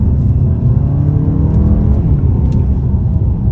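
A 2022 Hyundai Santa Fe Calligraphy accelerating hard through the gears, its engine note loud, close and continuous, with a rising drone and steady road roar throughout.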